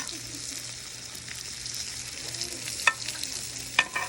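Bacon-wrapped chicken strips sizzle steadily on a hot griddle, close and continuous, with a couple of sharp metal spatula scrapes near the end.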